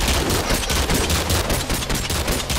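Rapid sniper and automatic gunfire in the Minecraft shooter MCStrike, a dense continuous barrage of cracks and bursts filling the whole stretch at steady loud level, with no talk.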